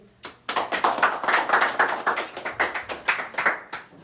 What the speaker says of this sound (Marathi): सगळी मित्रमंडळी टाळ्या वाजव रे